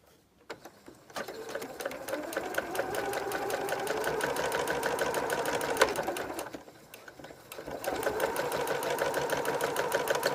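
Sewing machine stitches a quarter-inch seam on a patchwork bowtie quilt, a close, fast, even mechanical whir that starts, runs for several seconds, pauses briefly and resumes.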